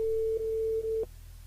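A steady telephone ringback tone, pitched in the mid range, plays as a radio host calls a listener back live on air. It holds for about a second with two brief dips, then cuts off into a low hum.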